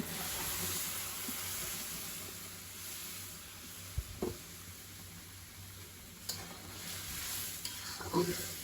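A potato curry is sautéed in a pan and sizzles softly and steadily. A few scrapes and clinks of stirring come through, with no talking.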